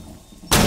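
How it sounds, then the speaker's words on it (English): A flashbang grenade detonates in Rainbow Six Siege: after a brief low, quiet rumble, one sudden loud, full-range bang cuts in and holds as a harsh, bright blast to the end. "Lobbing a flashbang!"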